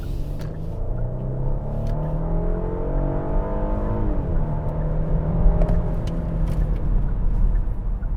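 A 2021 Genesis GV80 SUV with a 375-horsepower engine accelerating, a steady rising engine drone and whir heard from inside the cabin, climbing in pitch then shifting down before building again, with no talking.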